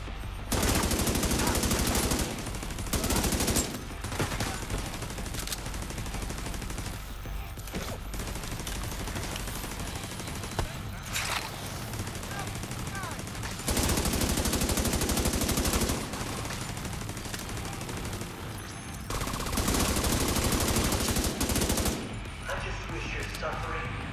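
Automatic gunfire in The Division 2, repeated loud bursts of rapid rifle and machine-gun shots separated by brief lulls, with some talk mixed in between volleys.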